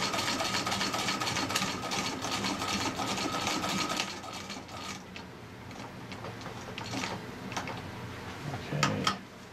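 A Singer 15-91 sewing machine stitches patchwork fabric for a flat cap, running with a fast, steady mechanical whir for about four seconds, then slowing into softer intermittent stitching with a few clacks near the end.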